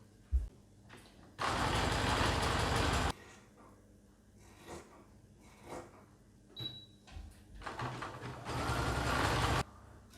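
A sewing machine zigzag-stitches the side seams of a T-shirt in two bursts, a steady rapid mechanical whirr for about two seconds, a pause with small handling sounds, then a second longer run.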